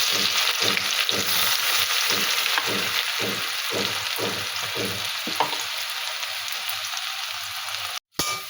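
Whole chillies, cumin seeds and onion frying in hot oil for a tilapia curry with kohlrabi: a steady close sizzle with regular stirring scrapes, then a brief cut near the end.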